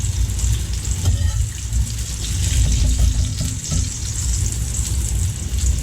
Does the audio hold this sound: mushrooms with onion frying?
yes